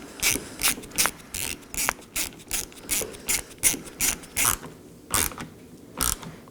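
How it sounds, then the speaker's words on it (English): A ratchet snugs a T25 Torx screw into a front exterior door handle on a 2018–2024 Chevrolet Equinox, giving a close series of about a dozen evenly spaced clicking, creaking pawl strokes. "Now to install our T25 Torx screw."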